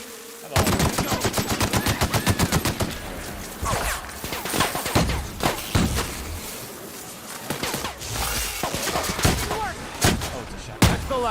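Gunfire in The Outer Worlds: a loud, rapid automatic burst opens the passage, and scattered single shots and short volleys follow over a buzzing, dense game soundscape.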